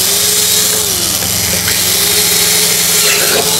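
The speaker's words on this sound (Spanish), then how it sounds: "Lo que voy a hacer es que le voy a perforar con el taladro." Electric drill boring into hard doll material, a steady continuous whirring grind with a sustained motor hum, loud and close, running without pause and no talk over it.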